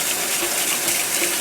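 Hot water runs steadily from a tap into a sink for cleaning a dishwasher part with dish soap, a constant close rushing stream with no pauses.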